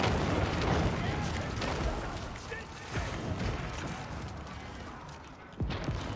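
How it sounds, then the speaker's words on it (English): Cannons fire in a battle in the Age of Empires 4 video game: deep booms rise from a dense, rumbling wash of combat noise, with sharper blasts standing out near the middle and the end. "Cannons. Watch six cannons right there."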